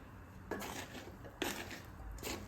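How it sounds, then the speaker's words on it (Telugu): Poha is stirred with lemon juice in a pan off the heat, three soft scraping bursts of a spoon against the pan over a quiet background, with no talking. "వేసుకుని అంతా బాగా కలుపుకోవాలి."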